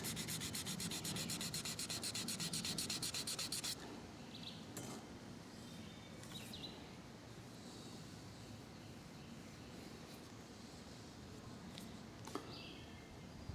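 Hand sanding on a Remington 541-S rifle stock, close and rhythmic: fast, dense back-and-forth rasping strokes for a few seconds, then quieter, slower rubbing with occasional light clinks and taps.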